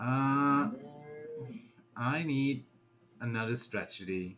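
A phone notification tone shaped like a cow mooing sounds once near the start, a drawn-out low moo, with a person speaking in the gaps around it.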